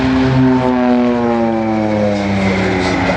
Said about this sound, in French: Les deux turbopropulseurs qui l'équipent, c'est des Garrett